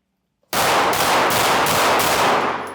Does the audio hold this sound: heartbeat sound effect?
no